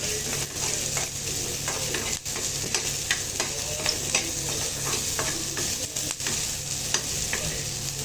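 Ingredients for curd rice sauté in a hot pan, giving a steady, close sizzle and frying hiss broken by frequent scraping stirs of a utensil against the metal, with no voices.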